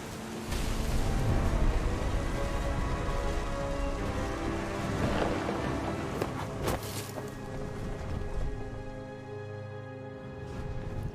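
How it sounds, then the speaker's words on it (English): Heavy rain pours steadily with deep rolling thunder rumbling close by in the video game What Remains of Edith Finch, a dense continuous storm with no voices. "Thunder sounded much too close and full of angry power."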